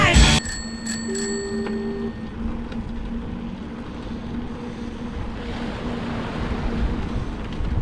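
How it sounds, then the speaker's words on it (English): A bicycle bell rings a few quick bright dings at the start as bikes set off along a pier in Crescent City, California, followed by steady wind and low rolling noise outdoors. "Let's get on our bikes and ride."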